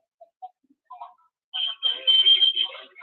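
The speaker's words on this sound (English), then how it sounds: "This your phone is making a lot of noise." A mobile phone rings during a live broadcast, a bright electronic trill that starts partway through and continues for over a second, following a few faint blips.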